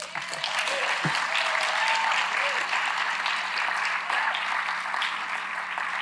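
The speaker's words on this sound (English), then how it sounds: "And now, again, let's give them a round of applause." A forum audience gives a round of applause, continuous crowd clapping throughout with a brief low thump near the start.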